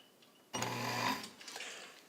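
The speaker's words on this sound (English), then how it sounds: "And so I'll sew some stitches here for you so you can see it." An all-metal Necchi BU Nova sewing machine, restored, makes a short half-second burst of stitching through garment leather, close by, with quiet handling sounds before and after.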